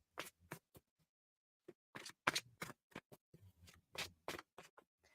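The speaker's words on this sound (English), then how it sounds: "I am shuffling, not on screen, so I'm shuffling over here." Tarot cards being shuffled off to one side in short, crisp riffles and flicks that come in irregular bursts with quiet gaps between, fairly close and soft.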